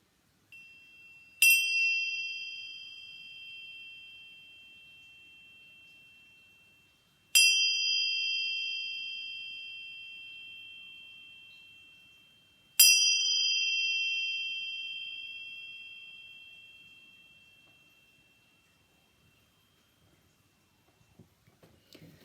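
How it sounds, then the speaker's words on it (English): A meditation chime is struck three times, each a bright, clear ding that rings out and decays slowly into silence before the next strike. "just enjoy as I chime this 3 times to bring us back to this present moment"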